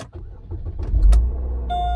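2006 Chevrolet Malibu with a 2.2 engine idling close by after a hard start, a low steady rumble with a few clicks and a brief chime near the end.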